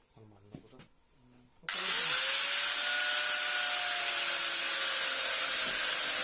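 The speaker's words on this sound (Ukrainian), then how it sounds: "і болгарку бери і пиляй" An angle grinder spins up on a BMW being repaired and cuts metal with a loud, sustained high-pitched whine, after a few seconds of quiet voices.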